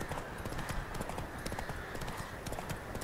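Horse hooves clip-clop steadily as a royal messenger rides in a Witcher radio drama, a brisk repeating trot that is fairly close but quiet, with faint voice-like sounds in the background.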